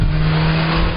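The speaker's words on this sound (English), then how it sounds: "That creates a whole lot of engine noise." Small four-wheel-drive car with a CVT holding its engine at high revs, a steady loud droning whine that stays close and constant throughout.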